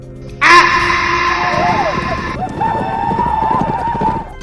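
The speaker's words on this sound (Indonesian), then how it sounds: "Terlihat Elsa yang mengenakan pakaian Comanche dengan menunggang kuda di samping Sam" A horse ridden in a cowboy film, with hoofbeats clopping steadily under a loud, sustained burst of film score and what sounds like a neigh near the start.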